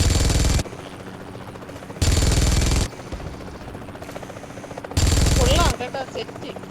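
Three loud bursts of rapid automatic gunfire from the mobile game PUBG Mobile, each lasting under a second, are separated by quieter stretches with people talking.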